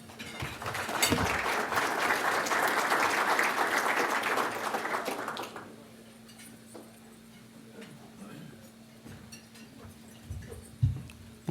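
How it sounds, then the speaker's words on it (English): An audience bursts into applause at a Pittsburgh cybersecurity event, a dense wash of clapping for about five seconds that then drops away to a quiet room with a steady low hum and a few stray sounds. "So please, round of applause."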